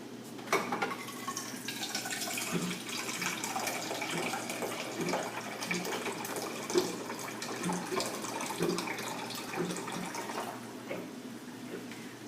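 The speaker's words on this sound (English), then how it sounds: "you need to pour in more water" Water runs steadily into a cooking pot of rice for several seconds, a continuous splashing rush with faint clinks of cookware.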